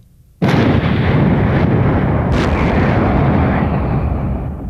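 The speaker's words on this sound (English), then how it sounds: "The tremors felt yesterday were simply gigantic explosions." Huge demolition blasts bring down a barbecue restaurant, played back from videotape: a sudden deafening boom after a quiet start, then a sustained rumbling roar with a second sharp burst partway through.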